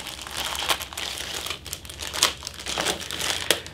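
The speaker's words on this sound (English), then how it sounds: "Each of the sprues are packed in individual plastic bags" Thin plastic bags holding the sprues of a Tamiya 1/35 KV-2 model kit crinkle and rustle continuously and close up, with sharper crackles at irregular moments and no talking.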